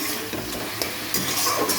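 Leafy greens (shak) fry in a pan while being stirred, giving a steady close sizzle broken by repeated scraping strokes, with no talking.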